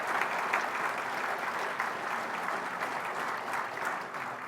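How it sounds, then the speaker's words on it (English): A panel discussion audience gives a steady round of applause, continuous dense clapping from a moderately distant crowd that holds evenly before tapering slightly at the end. "Can we give all 3 of these wonderful people a big round of applause for the contribution they just made in this conversation?"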